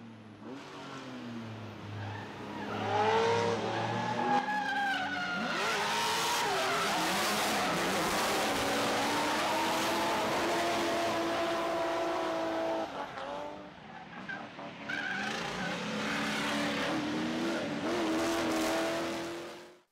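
Drift cars sliding at Drift Appalachia, engines revving hard with long screeching tire squeal that rises and falls, continuous and loud for nearly the whole stretch with a brief dip midway.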